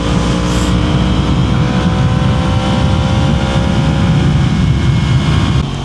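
A Yamaha MT-10 motorcycle under way gives a loud, continuous engine drone with rising tone as it accelerates, mixed with heavy wind rush throughout.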